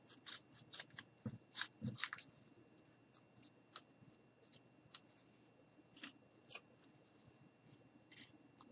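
Scissors cut around a mini guitar shape in a series of quiet, close snips and paper rustles, irregular and soft throughout.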